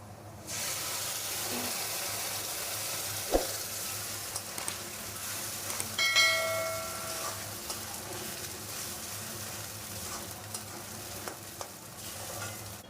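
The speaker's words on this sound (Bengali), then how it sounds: "তা পেঁয়াজ ভাজা হয়ে গেছে, এর মধ্যে বা কাঁচকলার খোসার পেস্টটা দিয়ে দেবো।" Onion and green banana peel paste fry together in a pan with a steady sizzle and hiss. A utensil stirs and scrapes intermittently, with a few sharp knocks against the pan partway through and no talking.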